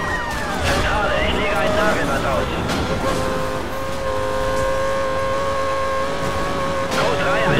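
A Lexus LFA races in Need for Speed Most Wanted, its engine holding a steady high whine with shifting pitch, tyre squeals and collision noises, under continuous game sound while someone talks over it.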